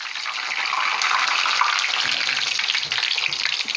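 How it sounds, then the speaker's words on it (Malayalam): Egg cutlets fry in hot oil in a pan, a dense, continuous sizzle and crackle at moderate loudness with no voices. "പൊരിച്ചെടുക്കാം."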